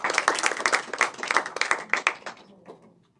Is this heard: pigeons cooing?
no